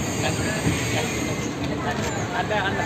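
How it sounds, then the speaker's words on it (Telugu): A commuter train pulls into a busy station in Hyderabad, its broad rumbling roar with a high metallic wheel squeal running throughout, loud and close, with crowd babble mixed in. "సో ట్రైన్ అయితే వచ్చేసింది"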